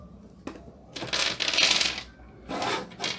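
Hard little wooden chess pieces clatter and click together in several quick bursts, rattling close by with short pauses between handfuls, as they are handled out of the board they are stored in.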